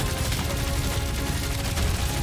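Rapid, overlapping gunshots from the video game Guardians of the Galaxy form a continuous, busy barrage of firing across the whole short stretch.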